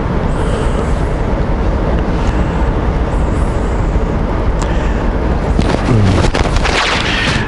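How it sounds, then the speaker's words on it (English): A train rumbles steadily with a loud, broad roar, and a brief metallic squeal rises near the end as it pulls out of a station. "there's a train pulling out of the train station here"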